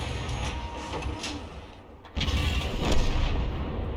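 A tank cannon fires in World of Tanks: a sharp, heavy blast lands midway, followed by a loud, sustained rumbling roar after a brief lull.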